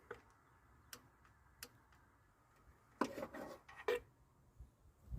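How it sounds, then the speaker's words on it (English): Torque wrench clicking while tightening exhaust manifold nuts on a 1999–2001 Jeep Cherokee: faint, sparse ticks early on, then a louder burst of clicks and ratcheting near the end, heard alone in a quiet workshop. "the two nuts for the corners of the exhaust manifold are torqued to 23 foot-pounds"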